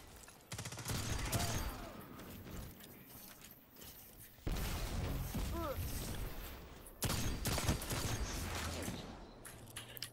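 Gunfire from a Destiny 2 Crucible player-versus-player match, including shotgun use, comes in dense rattling bursts with short gaps, fairly faint under game effects.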